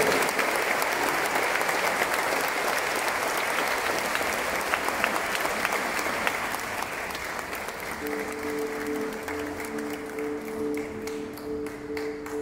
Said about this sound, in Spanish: Démosle nuevamente un fuerte aplauso